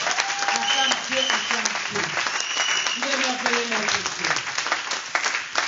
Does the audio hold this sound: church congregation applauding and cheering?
yes